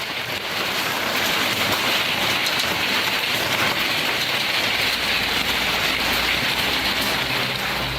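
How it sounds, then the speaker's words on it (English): A dense, steady roar of hailstones pelting hard surfaces, loud and unbroken from start to finish. "Hailstones may sound like a symphony falling from the sky"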